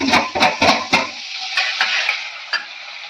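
Peanuts and gram dal roast in a pan for chivda, giving brisk crackling and scraping stirs, dense at first and then thinning into scattered pops.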